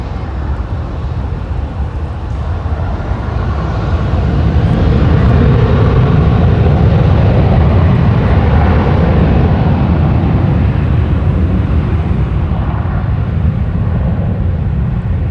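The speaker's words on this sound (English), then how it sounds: "Southwest Airlines Boeing 737-800. Next in line to take off." A Southwest Airlines Boeing 737-800 roars down the runway at Los Angeles International Airport, a loud, steady broadband jet rumble that swells slightly and holds throughout, with no voices.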